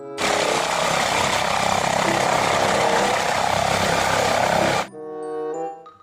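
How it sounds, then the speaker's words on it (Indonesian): Toy helicopter giving off a loud, steady whirring rotor noise for nearly five seconds, then cutting off abruptly and leaving a few softer electronic tones. "Wah, ini helikopter."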